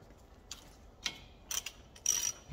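A ratchet tightening bolts on an Abarth 595 Brembo brake, several short, crisp clicking bursts spaced irregularly, close but fairly quiet against a hushed background, with no talking.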